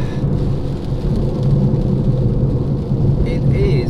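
Heavy rain drums steadily on a car during a drive toward Duke's Pass in Scotland, a dense continuous wash with low road and engine rumble underneath, loud and unbroken throughout.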